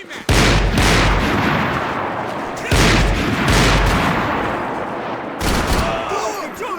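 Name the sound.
gunfire in video game Max Payne 3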